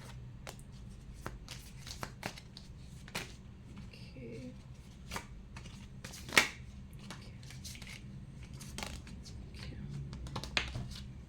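Tarot cards are shuffled and drawn by hand in quiet, soft riffling bursts and light flicks, with one sharper snap partway through. The sounds are close but faint.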